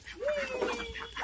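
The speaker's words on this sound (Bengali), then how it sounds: "হাঁস মুরগি সবাই বেরিয়ে পড়েছে" Chickens released with ducks from their coop in a village yard on a winter morning give a brief, close clucking call over faint background sound.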